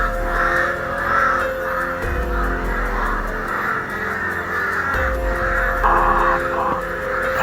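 Several crows caw loudly and close by, harsh repeated calls overlapping in a steady chorus over a low background hum.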